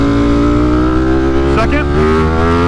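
A tuned motorcycle accelerating through the gears at about three-quarter throttle with short shifts, giving a loud, steady engine drone with a brief break at a gear change before the pitch climbs again.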